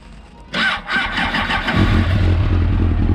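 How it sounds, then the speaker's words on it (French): A 1999 Suzuki GSX-R 750 SRAD motorcycle engine fires up with a sharp burst, then settles into a rough, uneven idle with a knocking, clattering connecting-rod edge. "Elle me fait un bruit, alors je sais pas, moi je dis claquement de bielle"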